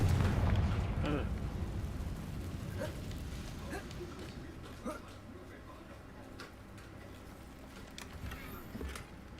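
A Confringo explosion spell in Hogwarts Legacy booms at the start and rumbles as it fades over several seconds, with scattered crackles and faint talk underneath.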